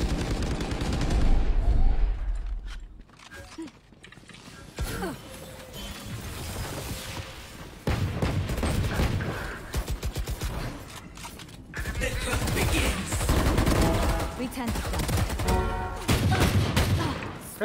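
Gunfire in the Valorant video game, bursts of rapid shots and fusillades rising and falling across the span, mixed with game effects and occasional voices.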